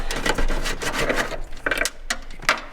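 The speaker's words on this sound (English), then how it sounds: "And fog machine, you just open this up" A fog machine for an animatronic setup is opened up by hand, making close, fairly loud scraping and rubbing of plastic parts broken by a few short clicks and knocks.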